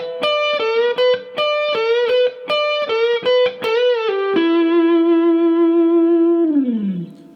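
Distorted electric guitar plays a repetition lick, clear and loud on its own: a run of quick repeated bent phrases, then a long sustained note that slides down and fades at the end.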